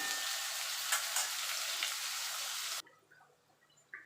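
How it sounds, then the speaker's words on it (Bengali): Potatoes frying in a pan with okra, a loud dense sizzle for almost three seconds that cuts off abruptly into near quiet with a faint tap at the end. "আলুটাকে একটু লাল লাল করে ভেজে নেব"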